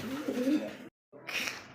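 Pigeons at a bird sale give low, throaty coos in two bursts with a brief silence between, close and moderately loud.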